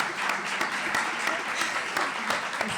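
An audience at a feminist theology lecture breaks into applause, a short burst of clapping from a room of listeners with sharp individual claps, a voice speaking over it.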